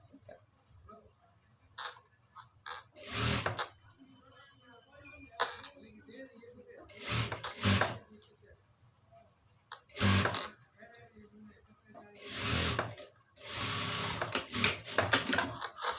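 A home sewing machine stitches a garment sleeve in several short bursts of motor whirring, separated by pauses, fairly close and moderately loud.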